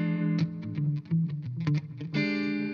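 Electric guitar loop played back through distortion pedals, a sustained distorted chordal phrase with rhythmic picked accents and a swelling final chord, loud and alone with no talking.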